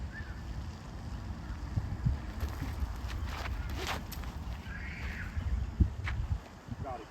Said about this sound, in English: Do not like this wind though.